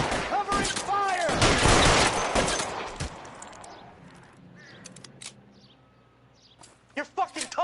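Rapid bursts of gunfire in the LA Noire video game, loud and dense at first, then fading into scattered shots with shouted voices over the shooting.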